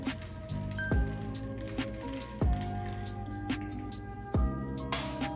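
A spoon clinks repeatedly against a glass, stirring a Paloma cocktail topped with soda water in a steady rhythm, bright ringing taps every second or so, close and fairly soft.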